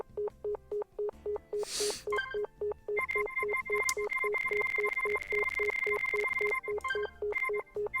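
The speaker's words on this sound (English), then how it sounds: "No one is picking up the phone at this hour." Phone tones in a video game, a steady run of regular beeps like a ringback signal repeating alone, with a brief noisy burst and a sustained higher electronic tone layered partway through.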